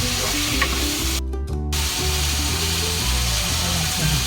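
A pot of chicken with water, avocado and fish sauce is stirred close up, a continuous loud bubbling sizzle with repeated scraping strokes and a brief mechanical whir partway through.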